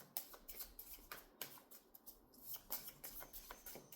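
Tarot oracle cards being shuffled by hand at close range, a quiet stretch of soft riffling flutters and papery pats with no talk.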